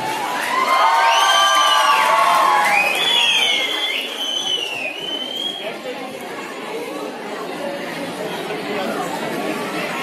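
Schoolchildren shout and cheer at a district-level folk dance competition in Shimla, a loud crowd of young voices with whoops rising early and then settling into steady chatter.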